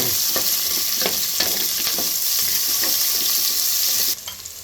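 One large onion and four or five small chopped onions sauté in a pan for bisi bele bath. A steady, close sizzle runs throughout with scattered spatula scrapes, then drops off quickly near the end.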